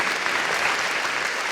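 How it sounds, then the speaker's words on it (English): A crowd at Senator Ron Wyden's town hall at the Conestoga Rec Center claps for a commissioner, giving a short burst of dense, even applause that stays steady and full throughout. "let's give the commissioner a big round of applause"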